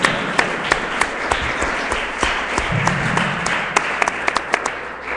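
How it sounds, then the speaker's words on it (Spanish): Audience applause in a university seminar hall welcoming a guest speaker, a steady dense wash of many hands clapping with a few sharper claps standing out as it tapers near the end. "Recibámoslos con un fuerte aplauso."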